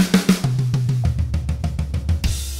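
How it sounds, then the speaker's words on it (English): Quick drum fill on a drum kit, struck with alternating hands: a rapid run of close, loud hits sweeping across the drums and ending on a washy cymbal crash, played alone. "A very, very common drum fill sounds like this."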